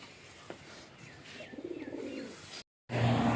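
Racing pigeons coo softly and low against steady outdoor background noise before a release, with a brief dropout near the end before louder noise returns.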